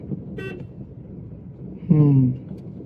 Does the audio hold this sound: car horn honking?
yes